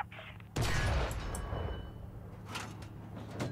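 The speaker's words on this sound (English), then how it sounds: "Take a few shots at the tank." A tank is shot at in War Thunder: a sudden loud blast breaks in, then decays into a rumbling tail with a few fainter hits afterward.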